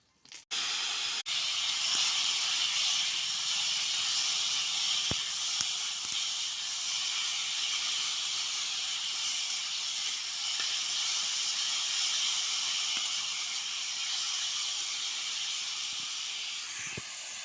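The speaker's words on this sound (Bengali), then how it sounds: "চিংড়ি মাছ ভাজার তেলে পাঁচ ফোড়ন দিলাম দিয়ে চালতাগুলো দিয়ে দেবো" Five-spice seeds and elephant apple pieces dropped into hot oil left from frying shrimp give a steady, loud, hissing sizzle that runs unbroken for the whole stretch, with no talking over it.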